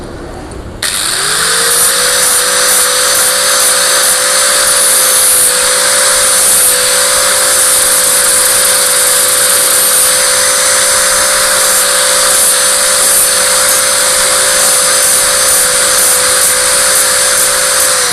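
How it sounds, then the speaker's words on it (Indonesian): A Panasonic dynamo is sanded with sandpaper, not a grinder, producing a loud, steady high-pitched whine with a constant tone that starts abruptly after a second and holds without pause, no voices present. "ini bukan gerinda ya teman, amplas saja"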